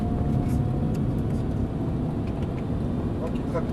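A Lamborghini Gallardo engine roars steadily close by as it accelerates on a racetrack, with a voice talking over the engine noise.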